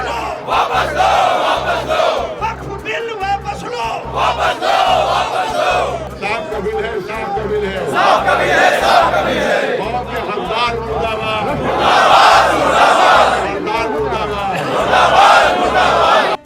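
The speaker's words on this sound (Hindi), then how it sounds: "भीड़ ने वक्फ बिल वापस लो और मुस्लिम हुकूक पर हमला बंद करो जैसे नारे लगाए।" A large protest crowd in Lucknow chants slogans against the Waqf Bill, loud rhythmic call-and-response shouting that swells and repeats throughout.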